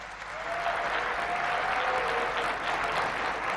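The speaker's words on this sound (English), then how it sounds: "please give President Ruto and President Macron a warm round of applause" An audience at an Africa summit in Nairobi applauds warmly, a dense steady wash of clapping that swells quickly and holds from a hall full of people.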